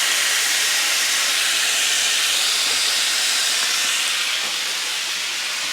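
A rib eye steak sears in a hot iron skillet, cooked rare, just after being flipped onto its other side. A steady, loud broadband sizzle and hiss runs throughout, with no voices.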